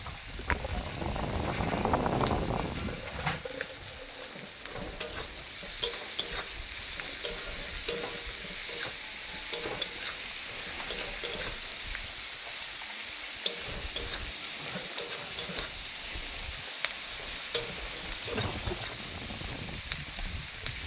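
Ingredients for a bottle gourd leaf and shrimp paste dish fry and sizzle in a pan, a steady hiss broken by occasional stirring clicks and taps, with a brief louder stirring burst near the start.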